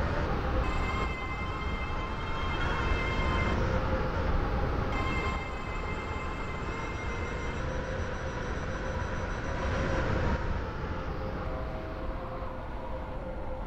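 A train rumbles along steadily in the Roblox game Stepford County Railway on an Airlink service toward Stepford Airport Central, a continuous broadband roar with faint tonal hums throughout, no speech.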